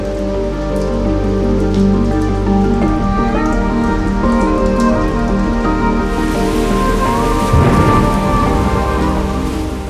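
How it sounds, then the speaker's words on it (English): Heavy rain pours steadily and loudly on dry dust by the Mara River as a thunderstorm arrives, with a low rumble of thunder swelling near the end. "As dark storm clouds swallow the sky, the tempest officially arrives."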